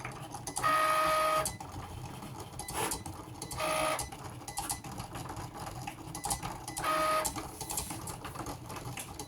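Cricut Explore 3 cutting machine slicing Mickey and Minnie head shapes from black vinyl, a steady mechanical whir with three louder whining carriage sweeps, close and fairly noisy.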